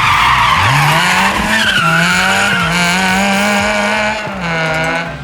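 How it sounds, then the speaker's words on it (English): A front-wheel drive rally car in the racing sim Assetto Corsa Rally skids and understeers, its tires squealing in a loud, sustained slide over a steady engine drone, with pitch wavering as the car scrabbles for grip. "The front-wheel drive cars, of course, behave like they should, understeering all over the place, the rear wheels skittering on behind."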